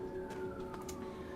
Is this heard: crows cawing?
no